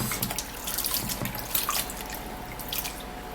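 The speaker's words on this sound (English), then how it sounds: "And then I'm going to wash that off." Tap water running and splashing in a sink as something is rinsed, with irregular dripping and splattering bursts close by, without talking.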